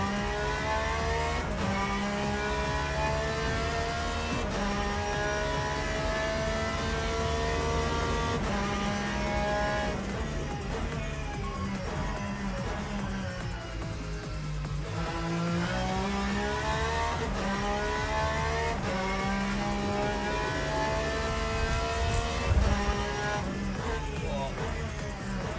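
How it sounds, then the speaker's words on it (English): A race car engine revs and shifts through gears in a racing video game, loud and continuous with rising and falling pitch sweeps and occasional tire noise, with a voice talking briefly. "This car sounds better than the GT3 cars."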